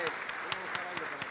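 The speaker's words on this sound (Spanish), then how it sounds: "Un aplauso. Lo quiero que lo aplaudan" Clapping at a tribute event for Luis Landriscina beats in an even rhythm of about four claps per second, sharp and close over a murmuring audience.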